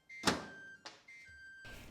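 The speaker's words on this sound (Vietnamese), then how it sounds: "Đó là tiếng lò báo 2 phút qua rồi." An electric oven's timer beeps to signal two minutes of broiling are up, a few short tonal beeps mixed with faint kitchen clatter, quiet and close.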